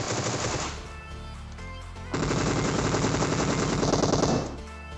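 Rapid automatic gunfire from PUBG, loud and close, one sustained burst followed by a pause and then a second, longer stream of shots.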